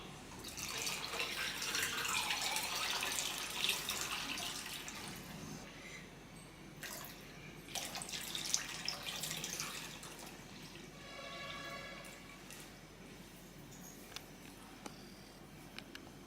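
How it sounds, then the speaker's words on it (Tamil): Water pours into a large brass or bronze cooking pot, a broad, steady splashing rush for about five seconds that fades into scattered drips and light trickles, recorded close with no talking. "இப்போது நான் இதில் தண்ணி ஊற்றுறேன்."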